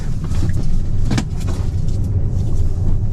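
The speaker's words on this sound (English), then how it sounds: "So, all right, letting the car pass." A car passes close by while heard from inside a Tesla Model 3 on a street, making a steady low road rumble with a brief swell of tyre and engine noise. No talking.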